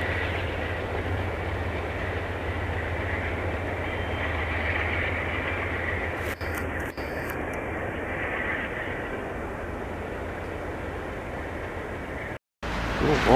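A VIA Rail passenger train rolls past in Montreal with a steady, broad rumble and rail noise that holds close and loud throughout, with a brief dropout near the end.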